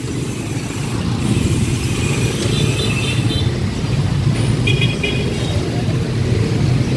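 Dense street traffic in Vietnam, with a steady roar of motorbikes and cars passing close by and a few brief horn-like tones rising over the continuous engine noise.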